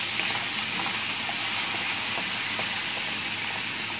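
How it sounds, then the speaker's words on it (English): Diced vegetables for a chicken pot pie sautéing in a pan, producing a continuous, even hiss and sizzle that stays steady and fairly loud throughout without talk. "So we're going to saute this"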